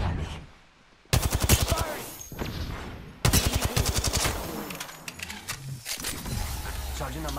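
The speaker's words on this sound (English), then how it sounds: "They're shooting at me." Rapid bursts of gunfire from enemy squads in a video game crackle in loud repeated volleys. A brief quiet gap separates them, with talk mixed in toward the end.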